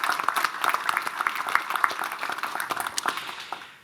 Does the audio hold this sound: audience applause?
yes